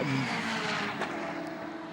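A GT3 race car slides under power at Jarama, heard from onboard as a steady engine drone with a faint tire scrub, moderately loud and continuous for two seconds.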